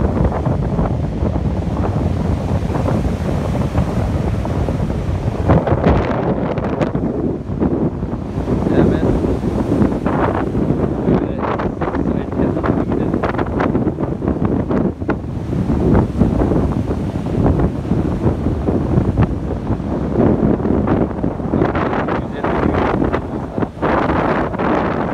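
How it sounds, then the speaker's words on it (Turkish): Strong wind buffets the microphone over rough, choppy sea waves breaking along the Antalya coast, a continuous loud roar with surging swells. "Deniz biraz dalgalı, hırçın."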